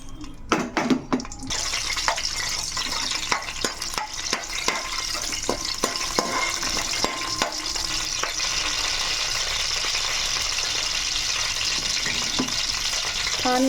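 Green chillies drop into hot oil in a pan and burst into a loud, close sizzle after a few clatters. The frying crackle then holds steady, with light stirring scrapes and no talking.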